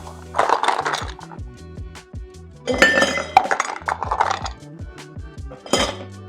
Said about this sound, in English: Add ice.